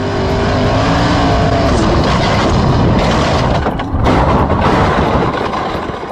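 A sprint car roars loudly at full throttle, the engine snarling steadily under heavy race-track noise as a crash unfolds, with a brief dip in the sound partway through before it surges again.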